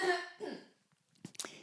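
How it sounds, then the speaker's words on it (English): A couple of short, throaty coughs close to the microphone, followed by a brief pause and a quieter clearing of the throat. "I just need to cough."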